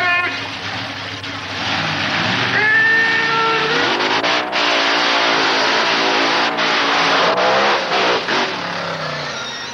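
Monster trucks racing in a semifinal heat, their big engines revving loud and close, the pitch climbing and surging through repeated throttle bursts with tire skids over a steady roar for the whole stretch.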